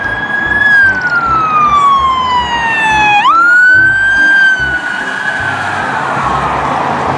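A toy police car's electronic siren wails loudly and close, sweeping down in pitch, then jumping back up and falling again, with a steady, piercing tone over faint background noise.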